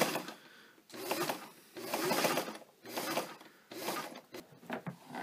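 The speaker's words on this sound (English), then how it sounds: "And it's a foot pedal controlled, just like every other sewing machine." A Singer Fashion Mate 237 sewing machine, foot-pedal controlled and running at essentially one speed, whirs in several close, loud bursts with brief pauses between them, alone with no talk.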